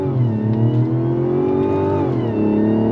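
A 2024 Mazda CX-90 SUV accelerates on throttle, its engine note rising steadily in a loud, continuous drone heard close from inside the cabin, without talk.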